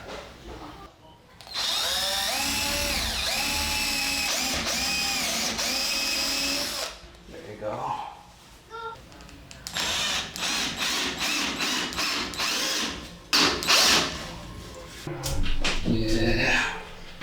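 A power drill drives screws into a metal and wood loft bed railing in several bursts of whining motor sound, near and fairly loud, separated by short pauses, knocks and handling noises.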